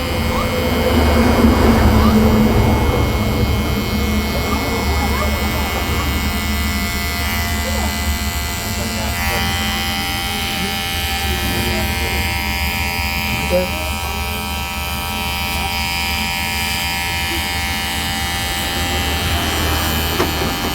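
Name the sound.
electric hair trimmer cutting hair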